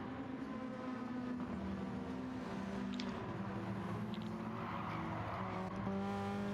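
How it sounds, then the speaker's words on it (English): Racing cars in Gran Turismo 7 at the Red Bull Ring, with a steady whining engine drone and the faint squeal of a tyre sliding through a corner, no voices. "As we hear tyre squeal from Polo's car there."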